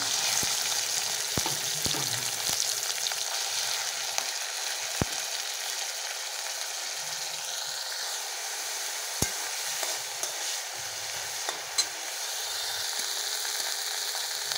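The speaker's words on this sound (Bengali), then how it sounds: "মাছগুলো ভেজে নেব।" Fish sizzling in hot oil in a pan, a continuous bright crackling hiss broken by occasional soft clicks and stirring knocks, close and steady, with no voices.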